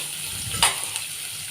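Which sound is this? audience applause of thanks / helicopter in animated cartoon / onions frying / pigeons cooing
onions frying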